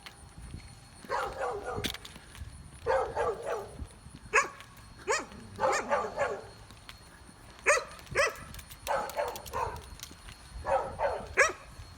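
Dogs bark and yip in repeated bursts at a moderate distance in a residential neighborhood, with short gaps between volleys and a quiet background.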